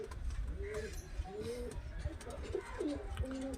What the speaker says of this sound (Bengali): মুর্শিদাবাদি কাগজি একদম পিওর পায়রা